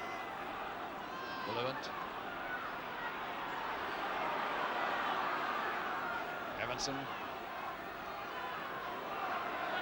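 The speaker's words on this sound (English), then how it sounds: "Fulham crowd urging their white-shirted men on now in the hope that in these last minutes they might see a winner" A Fulham football crowd in the closing minutes of a match, a dense, steady roar of supporters urging their team on, heard at a distance under a commentator's occasional words.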